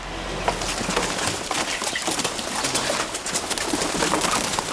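Pigeons coo repeatedly inside a vehicle carrying them about 150 km from Paris to Normandy, their soft calls layered over a steady, loud rumble of the moving vehicle.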